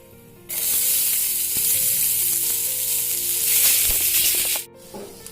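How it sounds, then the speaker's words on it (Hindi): Onions dropped into hot oil flavored with cloves for paneer masala erupt into a loud, close, steady sizzle that holds for about four seconds and then cuts off abruptly, with no talk. "तापरे आमे एथिरे प्याज ऐड करबा।"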